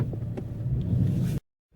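Low, steady engine rumble from a 2013 Ford Mustang GT with a 6-speed manual as it sets off on a drive, heard from inside the car for about a second and a half before cutting out abruptly.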